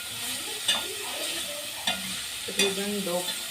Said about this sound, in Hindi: इसे भी हमने साथ ही ऐड कर देना है और अच्छे से गाजरों के साथ इसे भून लेना है।